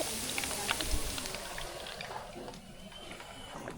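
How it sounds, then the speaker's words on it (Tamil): Sambar with vegetables simmers in a pot, giving a steady faint bubbling and hiss that runs continuously throughout with no talk. "சாம்பாருக்கு காய்கறி சேர்த்து நல்லா கொதிச்சுக்கிட்டு இருக்கு"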